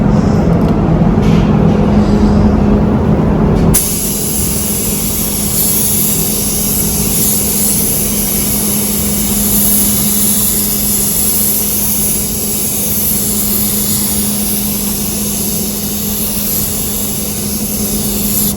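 Continuous loud hiss of a dirty, poorly spraying spray gun applying primer in a Honda Civic engine bay, steady and close, with a machine hum beneath and a sharp shift in tone early on.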